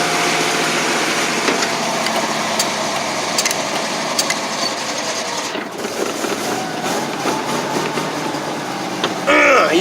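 A 1988 GMC 6000 box truck with a 454 V8 runs at high idle, giving a steady, loud mechanical drone with light rattling that holds for most of the stretch. A brief louder burst comes at the very end.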